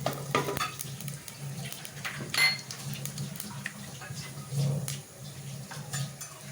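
Masala spices frying in hot oil for a black chana curry, a continuous crackling sizzle close up with occasional spoon-and-pan scrapes and clinks from stirring, and no voices.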